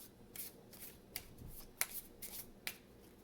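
Soft riffling of playing cards being shuffled, with several sharp snapping flicks as the deck bridges together, close and quiet with no talking.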